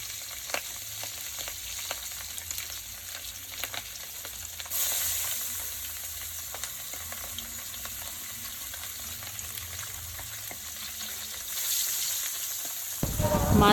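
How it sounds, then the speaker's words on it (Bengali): Pabda fish sizzle steadily in hot oil in a pan, a constant frying hiss that swells at moments. A brief clatter of utensils comes near the end, with no talking. "পরিমাণ মতো তেল দিয়ে মাছগুলো ভালো করে ভেজে নেব"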